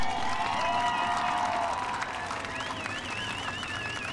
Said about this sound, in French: merci pour vos applaudissements, mes amis